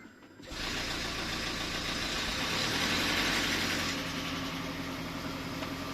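A Toyota 2ZR-FXE engine starts and runs steadily after a head gasket repair, a loud continuous mechanical drone with a busy upper hiss close to the microphone, no talk over it.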